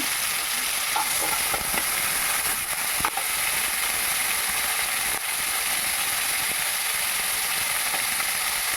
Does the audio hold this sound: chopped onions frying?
yes